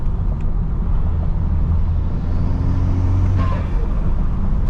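A BMW 335i stage 2+ on E85 at 22 psi boost cruises with a loud, steady low engine rumble and road noise from inside the cabin, no talk.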